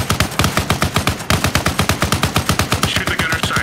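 Sustained automatic gunfire aimed at a BTR armored vehicle in Arma Reforger, a loud, fast, evenly spaced stream of shots with one brief pause.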